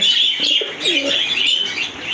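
Pigeons at a pigeon farm coo up close, a few soft throaty coos mixed with thin chirping from other birds in the loft.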